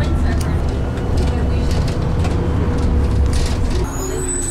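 A bus at a bus stop gives a steady, loud low engine rumble with road noise throughout, ending in a brief high hiss, while someone talks nearby.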